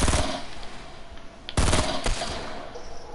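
Rapid automatic gunfire in a Fortnite duos match, a short run of close, loud shots with a heavier burst midway, fading into a continued rattle.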